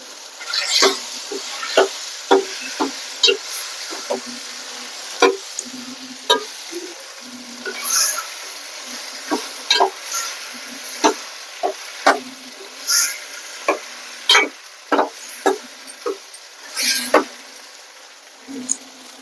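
Prawns sizzle steadily in a hot pan while a utensil scrapes and stirs in repeated clanking strokes.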